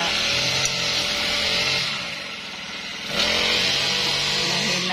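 Lawn mower running on a farm field at midday, a loud close continuous engine roar that dips briefly in the middle before surging back to full strength.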